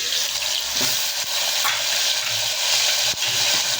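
Steady sizzling of a spice tempering for stuffed eggplant curry, with occasional scraping knocks as a spoon stirs through the pot, continuous and close.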